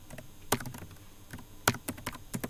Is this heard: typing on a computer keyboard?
yes